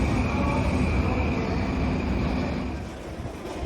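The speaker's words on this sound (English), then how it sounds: "Waiting for the train." A Tokaido line train rumbles steadily close by at a station, a broad continuous roar with a faint high squeal, easing slightly toward the end.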